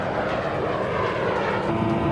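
Military jump-jet engine of a McDonnell Douglas AV-8B Harrier II, nozzles rotated downward for hovering near a landing area; a steady, loud, continuous roar fills the whole stretch with no talk.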